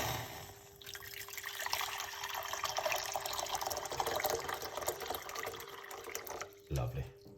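Hot water splashes and streams into a medium-sized pot in a kitchen, a continuous pouring rush that fades out, with a voice talking briefly at the end.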